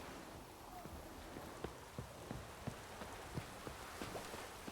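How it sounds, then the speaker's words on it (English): Steady rain hissing in The Witcher 3, with scattered soft drops and light taps over a constant wash of noise, moderately quiet throughout. "Looks like rain."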